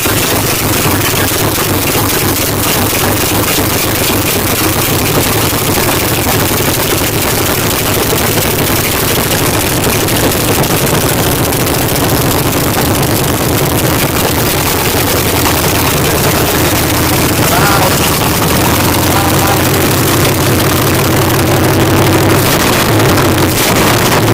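A carbureted 5.9-litre V8 in a 1989 Dodge Dakota idles with a loud, steady, close rumble that holds unbroken throughout.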